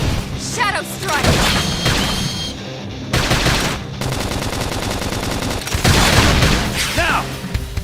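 Rapid gunfire and heavy blasts ring out during a battle in the video game Xenoblade Chronicles X, with dense bursts of automatic fire and booms under shouted combat voices.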